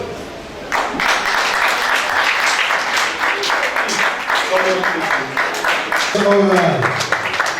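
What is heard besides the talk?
audience clapping at a school reunion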